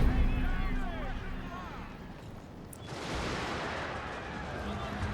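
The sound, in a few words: rifle volley fire in the video game Shogun 2: Fall of the Samurai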